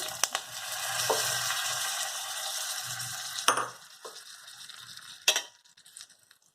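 A hot curry leaf and spice tempering is poured into coconut red chilli chutney, giving a loud hissing sizzle that dies down, broken by a few sharp metallic clinks of a pan or spoon, with no talking.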